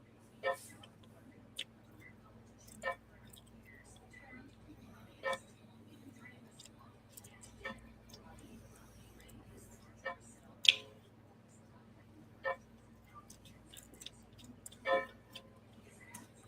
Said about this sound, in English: Is that a clock I hear?